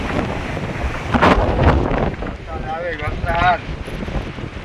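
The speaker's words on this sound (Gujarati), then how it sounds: "ફૂલ હવા ને વરસાદ ચાલુ થઈ ગઈ છે" Strong wind with rain buffets the microphone in loud gusts at the Mithapur seashore, with a brief voice speaking midway under the roar.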